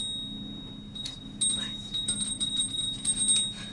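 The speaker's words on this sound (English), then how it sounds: "Ring the bell." A hand bell rung at a youth gathering, giving a thin high ringing tone that sounds in several light shakes, moderately close, over a low hum of room noise.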